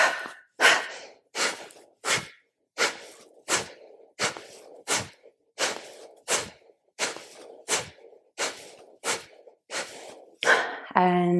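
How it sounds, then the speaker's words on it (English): Deep yoga breathing during a hatha session, a long series of about sixteen close, loud breaths alternating inhale and exhale in an even rhythm, each breath a rushing airy swell with short pauses between. "So take a nice deep breath in. Exhale. Inhale."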